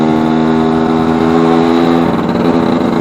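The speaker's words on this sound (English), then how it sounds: "Up through the revs slightly" A newly built two-stroke motorcycle engine, still cold while warming up, runs close and loud at a steady raised rev, with a slight shift in tone near the end and no talking.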